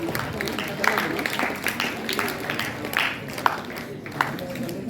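Applause from the crowd at a college valedictory function continues as more names are called, with uneven claps at moderate level and talking beneath them.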